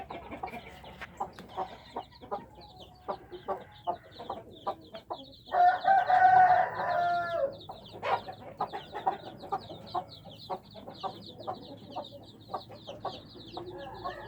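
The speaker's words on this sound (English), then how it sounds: "That's the baby chicks." Chickens and tiny newly hatched chicks inside an opened coop, with repeated soft clucks and cheeps throughout and a louder, drawn-out rooster-like call in the middle, close by, with no talking.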